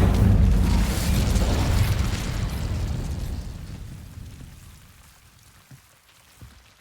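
A fire spell blast cast in the Hogwarts Legacy video game: one loud, roaring burst right at the start that slowly fades away over several seconds, leaving a quiet tail with a few small pops.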